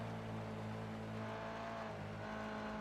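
A race car in the iRacing sim at Spa in the rain, driving through Blanchimont: a steady, sustained engine drone with a low harmonic hum, held at constant throttle and fairly quiet, with no voices.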